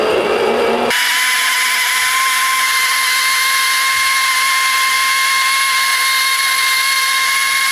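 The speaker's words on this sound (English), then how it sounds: "So we'll just grind this up as well as we can." Power tool grinding up IC chips for gold and silver recovery, a steady loud whine with a sharp start after a brief noisy onset, running continuously throughout with no talk.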